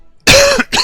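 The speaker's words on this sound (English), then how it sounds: "sorry, coughing right into the microphone" A single cough made right into a microphone, loud and close, in two bursts with a brief gap between them and nothing else around it.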